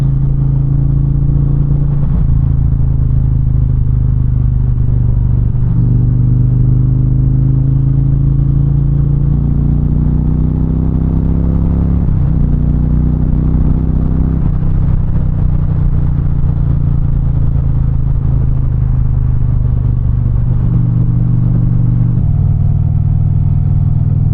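Indian Challenger motorcycle fitted with a Freedom Performance exhaust, a loud, deep, continuous rumble that rises and falls slightly in pitch as it rides on, with no voices.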